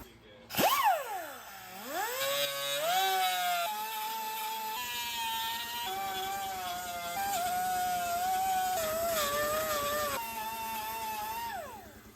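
A power tool shaves a groove into a car's fiberglass body during bodywork, whining up and down in pitch as its load changes, close and continuous for most of the stretch.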